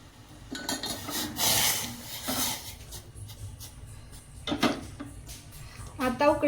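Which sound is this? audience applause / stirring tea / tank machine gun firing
stirring tea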